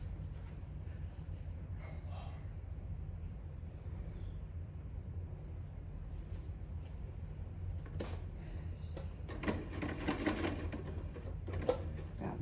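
A sewing machine stitches buttons onto a scrappy fabric belly band. It runs as a steady low hum with clicking bursts that grow louder toward the end, close by with faint background noise.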